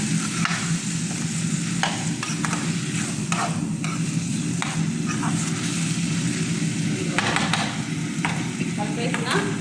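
Chili curry fries in a pan while being stirred, giving a steady close sizzle broken by repeated scraping strokes of the spoon.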